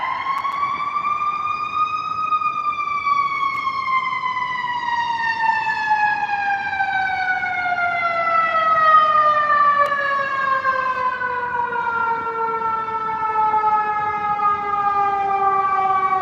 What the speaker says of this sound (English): Here comes the fire.